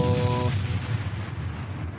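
A booming explosion sound effect with a deep, rumbling low end that swells loud at once and holds steady for about two seconds, with a brief tonal hum at the start.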